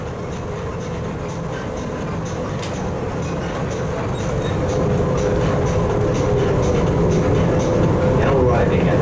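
Steady interior rumble of the Las Vegas Monorail train under way, a continuous hum with faint rail clatter that swells slightly toward the end, with no clear voices.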